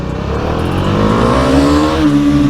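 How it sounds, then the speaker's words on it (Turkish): A Bajaj Dominar 400 motorcycle at a motorcycle arena event, its engine revving loudly and close as the throttle opens, the pitch climbing steadily throughout with no talking. "Güzel bir gaz açtı. Gazı güzel açtı."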